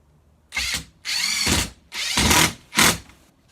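A power drill fitted with a long bit driving screws into a Muskoka chair during assembly, four close, loud whirring bursts separated by short pauses.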